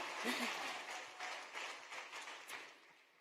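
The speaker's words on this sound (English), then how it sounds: "that deserves a round of applause" Applause for scholarship recipients at Baltimore Polytechnic Institute, a soft, distant wash of clapping that swells and fades unevenly across a few seconds.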